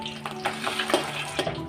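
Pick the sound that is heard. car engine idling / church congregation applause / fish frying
fish frying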